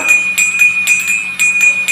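A homemade automatic aarti bell for home puja rings in quick repeated metallic strikes, about six or seven clear chimes in under two seconds, loud and close with a sustained high ring between hits.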